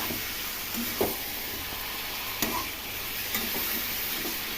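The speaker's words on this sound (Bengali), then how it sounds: "এই মাংসটা কষিয়ে ফেলছি আমি" Meat with whole garlic cloves frying and being stirred in a pan, a steady close sizzle with occasional soft clinks of a spoon against the pan.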